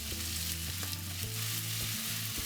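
Curry stir-fried in a pan with oyster sauce for a Thai crab curry, a steady close sizzle with soft scraping of the spatula through the sauce, continuous and without voices.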